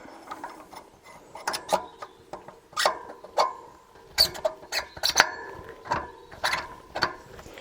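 A brake disc and axle are slid through the wheel of a Lankeleisi MG600 Plus electric fat bike, producing a series of close metallic clicks, scrapes and ratcheting knocks in uneven bursts.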